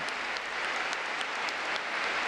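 A huge crowd of some 150,000 people at a Pyongyang stadium cheers and applauds, a dense, continuous roar of clapping and voices that holds steady and loud from start to finish.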